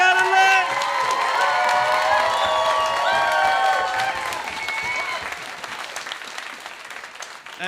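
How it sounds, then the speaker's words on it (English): A live audience at an online quiz show bursts into loud applause and cheering for the winner, with whoops over dense clapping that gradually thins and fades toward the end. "Big round of applause for your winner, Rhiannon"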